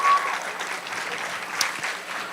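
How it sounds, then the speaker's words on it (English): An audience at a school morning assembly applauds first graders, a dense, steady wash of clapping from many hands that carries on evenly throughout. "Can we give a round of applause for all of our first graders?"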